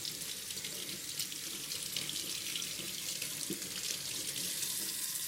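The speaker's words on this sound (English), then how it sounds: "take the corned beef brisket out and give it a wash to remove some of the excess salt" Corned beef brisket rinsed under a running kitchen tap, a steady close splashing and gushing of water into the sink with no pauses and no voices.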